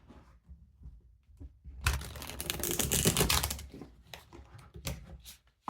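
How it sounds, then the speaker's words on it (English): A deck of tarot cards is shuffled close by, a quiet pause giving way to a dense, rapid flutter of riffling cards, then scattered lighter taps and shuffles. "Shuffle one more time here."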